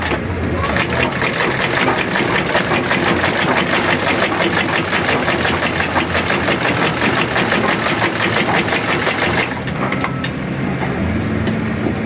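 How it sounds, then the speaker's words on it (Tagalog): A treadle sewing machine with a three-line needle blade stitches very thick material fast and loud, a continuous rattling drone of rapid stitching that briefly eases near the end before resuming. "naipakita ko na sa inyo gaano kalakas itong makina na pinalitan ko ng 3 lines needle blade"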